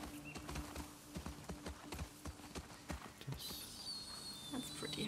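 A horse's hooves clip-clop in a steady, fairly close walking rhythm in The Last of Us Part II. Faint background ambience sits under the hoofbeats, and a brighter hiss or rustle joins in toward the end.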